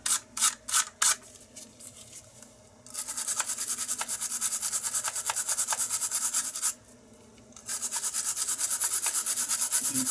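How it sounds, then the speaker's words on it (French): A brass wire brush scrubs corrosion from a leaked battery, a few short rasping strokes at first, then a long steady bristly scrubbing, a brief pause, and more continuous close, loud brushing. "Alors, je vais y aller avec une brosse de laiton."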